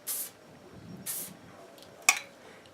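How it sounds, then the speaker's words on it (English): Two short hisses of volumizing hair spray aimed at the hair, close and airy, followed by a sharp click like the can or cap being handled. "spray it where you want that volume,"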